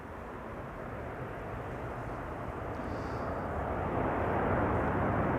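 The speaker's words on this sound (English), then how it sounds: "the first Delta A350 of the show, Delta Airlines Flight 136, arriving from Detroit, Michigan" Delta Airlines Airbus A350 landing at Amsterdam Schiphol, a broad steady jet roar that swells gradually as thrust reversers build, heard from a distance with no talk.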